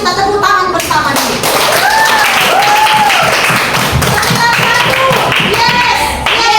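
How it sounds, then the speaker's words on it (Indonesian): A classroom group claps together in a lively rhythmic pattern, sharp hand claps repeating loud and close, with students' voices chanting and calling out over them. "mari kita tepuk tangan bersama nih"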